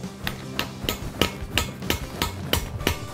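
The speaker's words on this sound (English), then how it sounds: "then you come across with a hammer and chisel," A hammer strikes a chisel against carved stone in a steady rhythm of about ten sharp, ringing taps, close and clear with no voices.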